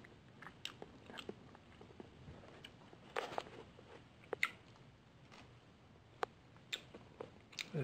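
Someone chews salty fermented bean curd in quiet close-up, with soft, irregular bites and mouth sounds spread across several seconds and no speech.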